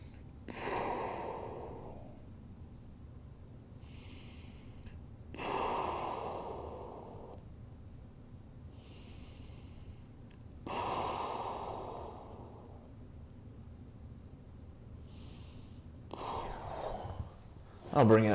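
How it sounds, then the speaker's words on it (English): Slow, deep breaths drawn in through the nose during yoga-style stretching, about three long audible inhales spaced several seconds apart with softer exhales between, close and quiet. "Trying to get that air coming in through my nose, down in my belly."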